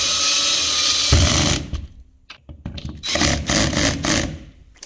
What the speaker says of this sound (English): I am installing an anchor point on my ceiling using wood screws to secure it to the stud.